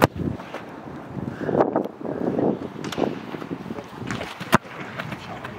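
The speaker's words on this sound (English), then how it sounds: "Wind over the terrace" Wind gusts over a stadium terrace at a Premiership Rugby Cup match, rushing and buffeting the microphone in uneven surges with a sharp knock partway through.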